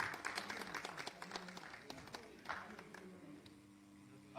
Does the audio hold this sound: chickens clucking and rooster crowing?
no